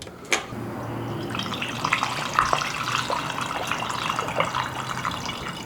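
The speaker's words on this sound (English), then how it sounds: "Oh, we have a coolant leak. The bleed screw is not tightened." Coolant dribbling and trickling from a loose bleed screw on a Gilera Runner 172cc scooter, a close, steady running-water sound with small splashes over a low mechanical hum.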